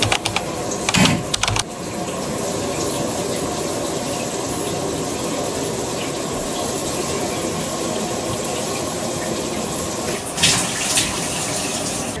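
Cold tap water runs steadily over hair being rinsed, a continuous close hiss and splash, with brief louder bursts of splashing near the start and toward the end.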